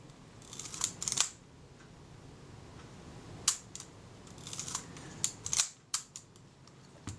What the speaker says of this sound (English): That's cocking and firing reliably.